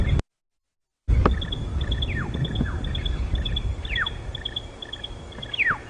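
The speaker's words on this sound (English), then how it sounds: "Sterling's wren warbler making that noise" A Stierling's wren-warbler calls repeatedly at Djuma Game Reserve, giving high, thin notes in a steady string with occasional sharp downward-sweeping trills. The calls are moderately close and clear over a soft outdoor background, cut by a brief silent gap near the start.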